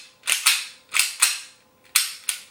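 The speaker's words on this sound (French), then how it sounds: "Sauf qu'il faut du CO2 pour faire reculer la culasse et pour éjecter la bille." A CO2 blowback airsoft pistol fires BBs, three sharp cracks each doubled by the slide snapping back, evenly spaced, close and loud.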